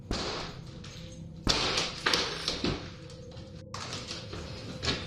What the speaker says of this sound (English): What they saw, however, was the door being kicked in.